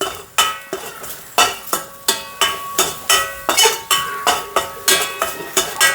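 Garlic dry-roasts in a pan with no oil over a low flame, stirred in a steady rhythm of about a dozen close scraping strokes with faint sizzling between them, no talking.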